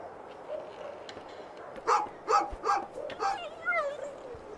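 A dog barks in the video game A Juggler's Tale, a run of five rhythmic yapping barks over quiet background, with a voice talking alongside.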